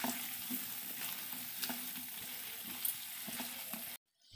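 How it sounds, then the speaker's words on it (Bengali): Fried paneer cubes sizzle steadily in a pan with well-fried spice masala and cashews for palak paneer, a close, continuous crackle broken by soft scraping taps of stirring, then cut off abruptly at the end. "ভালো করে নেড়ে দিচ্ছি"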